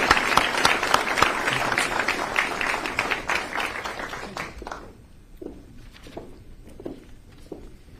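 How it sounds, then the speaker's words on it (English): Applause for college scholarship recipients at a police and fire department award ceremony, a full crowd clapping loudly for about five seconds, then fading to a few scattered claps and footsteps in a quieter room. "Let's have a round of applause for all our college, scholarship recipients."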